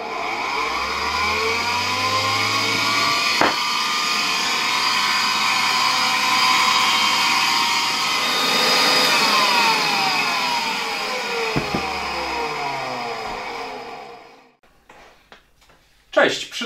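A 1966 Farel type 602 vacuum cleaner switched on, its motor whining up to a loud steady roar with a falling hum underneath. It runs for over ten seconds, then winds down into near quiet with a few clicks.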